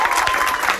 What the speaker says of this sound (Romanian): Aplauze pentru Vlad.